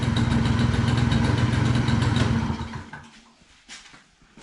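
Small motorcycle engine idling steadily after a key start, loud and close with a dense rumble for about two and a half seconds before the engine cuts off, leaving only faint handling noise.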